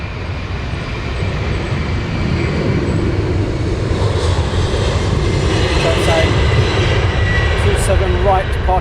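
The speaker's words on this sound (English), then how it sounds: "United 76 departing" A United jet airliner departs Heathrow's runway 27 right, its engines a loud, steady broadband roar that holds and slowly swells over several seconds.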